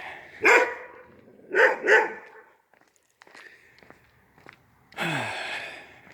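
On a neighborhood walk, a dog barks three times in short, sharp bursts, followed by quiet shuffling and then a louder, longer bark-like yelp near the end.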